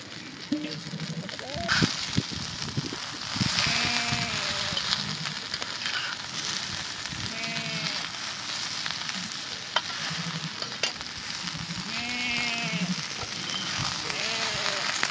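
Stuffed okra (bharli bhendi) cooks slowly in a covered pan over a very low flame, a steady soft sizzle and crackle running throughout with occasional stirring scrapes and a voice speaking intermittently over it.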